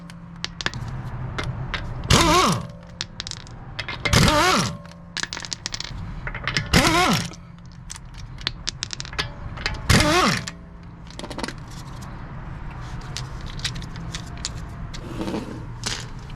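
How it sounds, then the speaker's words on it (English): Air impact wrench spinning off the lug nuts on a raised front wheel of a Volkswagen Jetta during a brake replacement: four loud bursts of rattling hammering, each about a second long, separated by quieter clinks and shop noise. "Since I have it up in the air, I'm gonna use my impact."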